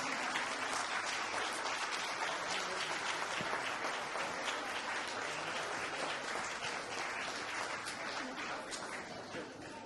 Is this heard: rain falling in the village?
no